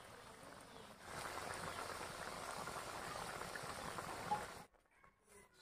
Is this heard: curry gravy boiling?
yes